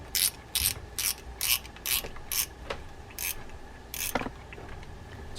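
A Zebco Big Cat 50 spinning reel being serviced gives a series of close, crisp ratcheting clicks in quick bursts, about a dozen in all, fading to quieter mechanical ticks toward the end.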